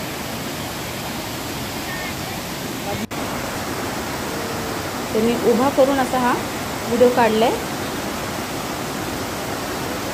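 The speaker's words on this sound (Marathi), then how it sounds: "मोठा असा हा धबधबा आहे." A large waterfall sends up a steady, broad roar of falling water, close and constant, while someone speaks over it partway through.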